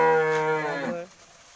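On a farm, a cow lets out one close, loud, drawn-out moo that falls in pitch and fades, followed by quiet.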